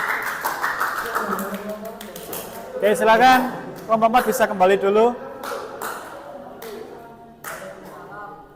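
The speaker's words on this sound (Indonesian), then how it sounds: "beri tepuk tangan untuk kelompok 4." A classroom applauds a student group, scattered hand clapping heard beneath a teacher talking, louder bursts in the middle, then trailing off with a few stray claps.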